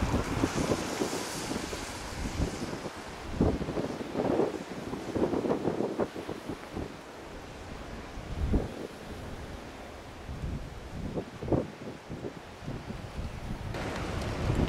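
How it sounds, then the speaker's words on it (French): Storm wind gusting hard at an English harbour near Newquay, roaring and buffeting the microphone in uneven surges with a low rumble of sea beneath, no voices. "C'est la tempête."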